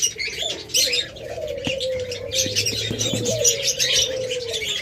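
Pet birds in a bird seller's cages, one cooing with a low steady call while others chirp and tweet in a busy chorus, with an occasional wing flutter, close and continuous.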